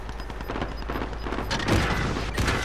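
Dense gunfire from the video game Call of Duty: Modern Warfare, rapid overlapping shots and bursts throughout with heavier blasts near the end, loud and continuous.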